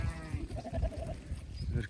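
A lamb gives a short, faint bleat amid a muffled, noisy outdoor background with low rumbling.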